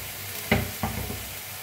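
Sprouted moth beans roasting in hot oil in a pan, stirred with a spoon. There is a soft steady sizzle with two sharp scraping strokes early on, close up, and no talk.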